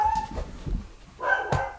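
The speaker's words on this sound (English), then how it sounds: "I film between dog barks" An indoor dog gives a few short barks and yips, close by and fairly loud, with brief pauses between bursts.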